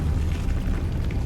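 Depulso force-push spell from Hogwarts Legacy, a low, rumbling magical blast that holds steady across the moment with no sharp single hit, close and moderately loud, with no talking over it.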